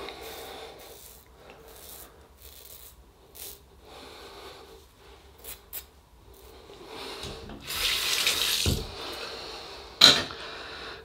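A tap runs briefly during a wet shave with a Fine Accoutrements Marvel double-edge razor and T.O.B.S Sandalwood soap: a short, fairly loud gush of water stands out among soft razor scrapes and rubbing.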